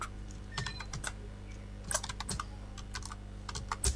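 Rapid, uneven keystrokes on a computer keyboard while coding in IntelliJ, close and clear, with bursts of clicks and short pauses, no voices.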